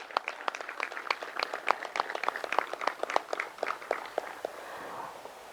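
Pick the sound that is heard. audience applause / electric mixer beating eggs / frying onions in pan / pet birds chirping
audience applause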